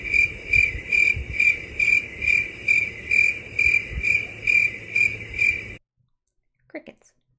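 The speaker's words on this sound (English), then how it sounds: "Crickets." Crickets chirp in a loud, regular pulsing trill, about two bursts a second, then cut off abruptly into silence, with a faint brief sound near the end.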